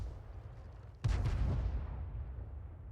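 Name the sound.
artillery gun firing in video game World of Tanks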